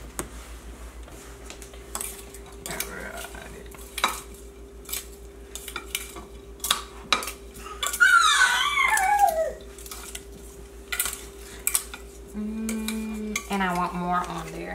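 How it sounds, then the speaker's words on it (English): Starburst-coated grapes are portioned into two separate bowls with a series of light clinks and clatters of dishware, while a dog whines and howls partway through over a faint steady hum. "now I'm gonna put these in two separate bowls"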